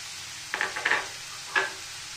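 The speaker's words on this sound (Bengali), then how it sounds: "দেখতেই পাচ্ছেন একটা জল ছেড়ে চিংড়ি মাছটা হচ্ছে" Shrimp frying in a pan as they release water, a soft steady sizzle broken by a few short scraping stirs.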